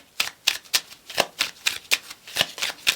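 Tarot cards are shuffled by hand close up, a quick, even series of about a dozen crisp riffling snaps, clear and alone without speech.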